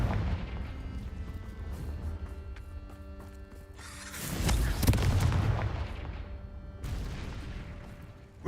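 A Confringo fire-blast spell explodes in Hogwarts Legacy, a loud rumbling blast that swells midway over a dense, noisy game soundscape, then gives way to a sharp burst near the end.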